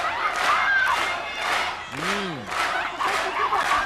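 A large arena crowd at a women's pro wrestling tag team final chants a wrestler's name in steady, rhythmic surges, loud and massed, with cheering and a few individual shouts breaking through between chants.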